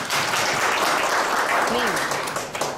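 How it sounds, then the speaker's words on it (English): An audience at a keynote talk gives a full round of applause, dense and continuous, with a voice speaking briefly over the clapping as it starts to fade. "why not give me a round of applause"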